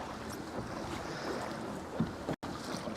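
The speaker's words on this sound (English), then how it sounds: "Dude, these waves are still going." Waves roll and wash beneath a kayak on open water in the evening, a steady, moderate rush of water and wind noise with no talking.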